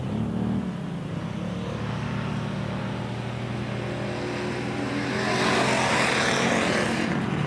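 Wissota pure stock race cars thunder past on a dirt oval during a heat or feature, a steady dense engine roar that swells louder near the end as the pack crosses the start-finish line, no voices.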